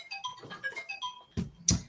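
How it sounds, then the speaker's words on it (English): A phone alarm rings out as a short looping melody of bright electronic tones, followed by two sharp taps or clicks near the end. "That's my alarm, y'all."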